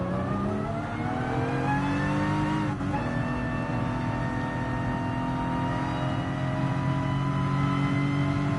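A 1954 Jaguar D-Type race car engine in GT Sport drones steadily and loudly, its pitch climbing under acceleration, then a brief dip before it rises again with a smooth, continuous roar.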